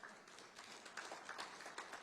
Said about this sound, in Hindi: इनके लिए तालियां बजाओ बंतिया साहब के लिए